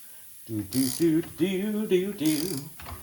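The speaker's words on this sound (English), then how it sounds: "we actually have a ratcheting 13/16" A ratcheting 13/16 wrench clicks in several quick bursts of metallic ratcheting while tightening during a steering pump pulley installation, close and fairly quiet.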